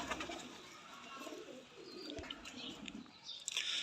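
A Shah Sira Salara teddy pigeon with a black tail gives soft, low cooing calls, faint and close, against light background noise.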